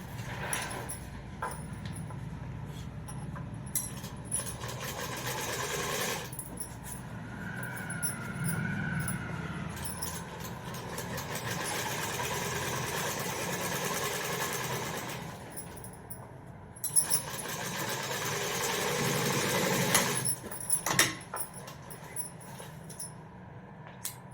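Sewing machine stitching elastic onto saree fabric, a steady mechanical run in several long bursts with short pauses between, close and fairly loud, with no talking.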